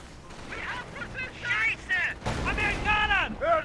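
Anti-tank gun and howitzer fire from the Company of Heroes 1 strategy game, with sharp shots and booms heard beneath a commentator talking continuously over the match.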